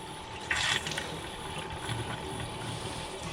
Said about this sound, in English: I'm just finishing getting the rest of the water out of the lines.